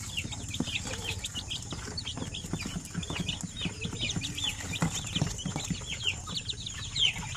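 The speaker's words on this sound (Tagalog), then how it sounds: "healthy naman yung ating mga sisiw" Steady high peeping from a brood of chicks, Shamo and Basilan chickens, many small overlapping calls continuing throughout at moderate level.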